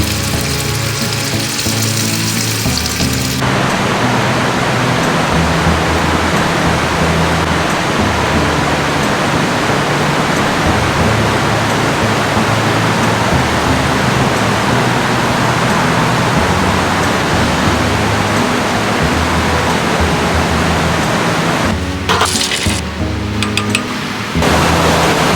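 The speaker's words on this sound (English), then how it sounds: "It started pouring rain again, so I'm literally cooking under an umbrella to keep everything dry." Heavy rain pours down in a Forks, Washington rainforest during a storm at a car campsite, a dense, steady roar throughout, with brief clattering sounds near the start and end.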